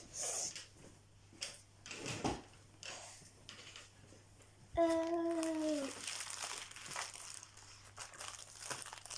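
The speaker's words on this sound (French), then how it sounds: "Et elle va vous déballer la dernière toile." Packaging crinkling and rustling as a paint-by-number canvas is unwrapped indoors, faint scattered crackles and handling noises with a brief squeaky sliding sound in the middle, quiet overall.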